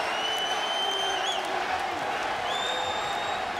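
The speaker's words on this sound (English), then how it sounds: "as the crowd comes alive" A UFC arena crowd cheers and roars in a steady wash of noise with scattered whistles, while a commentator talks over it.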